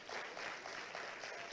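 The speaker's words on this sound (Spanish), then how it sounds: "Dale un aplauso al rey." A church congregation applauds, a continuous wash of many hands clapping heard from a distance, fairly faint and even throughout with no clear individual claps or voices.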